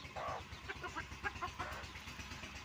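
Soft, scattered clucks from a hen with her chicks sound faintly over a low rumbling background, irregular and quiet.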